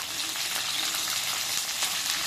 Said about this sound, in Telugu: అల్లం ముక్కలు పచ్చిమిర్చి ముక్కలు మరియు వెల్లుల్లి రెబ్బలను కూడా యాడ్ చేసుకోవాలి ఇప్పుడు వీటన్నింటినీ బాగా